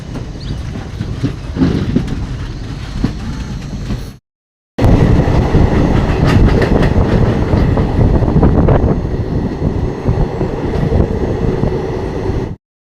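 A Saru Express passenger train pulls out of Chilmila station, its loud continuous rumble and rhythmic clatter of wagons rolling close by, with a brief cut partway through and no voices.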